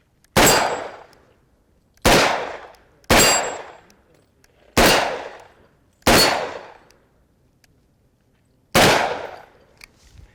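A Ruger GP100 Match Champion double-action revolver fires full house loads: six loud, sharp reports with short ringing decays, spaced irregularly a second or two apart, with no talking between them.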